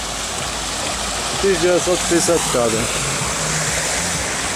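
Water still runs from a pipe that burst at the Kharkiv water cascade, a steady broadband rushing outdoors that stays under a voice, which is heard speaking briefly in the middle.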